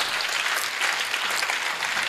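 Steady, dense applause from a church crowd at a public lecture fills the whole stretch, loud and continuous without pause.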